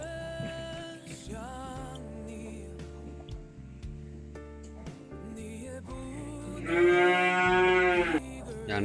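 Several recently weaned calves moo loudly and repeatedly after being moved to a new pen, their calls overlapping and near, with one long, strong bellow toward the end.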